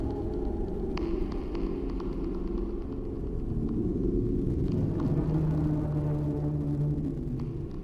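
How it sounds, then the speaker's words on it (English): An ice machine gives off a low, eerie, moaning hum with a throbbing rumble, steady and close, with faint clicks and rattles scattered through it. "the eerie sound the ice machine truly was making. It sounds like the windy moans of a ghost."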